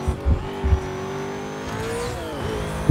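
An Aston Martin DB9 engine in the Need for Speed Most Wanted racing game drones loudly at steady high revs, with a few low thumps early on and a rising, shifting pitch toward the end.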